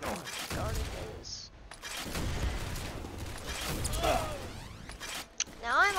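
Team Fortress 2 combat with rocket blasts and a shovel strike: explosions boom and crack among scattered gunfire and mechanical clatter, while a person talks over the action.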